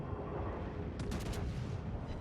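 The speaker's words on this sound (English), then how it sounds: "Now I've triggered my boost for the secondaries" Secondary guns of the German battleship Hannover open fire in World of Warships, a dense, dry burst of rapid gunfire over a constant loud battle rumble, with a quick cluster of sharp shots near the middle.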